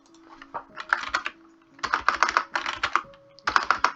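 Rapid bursts of computer keyboard typing, close and clear, with brief pauses between flurries of keystrokes.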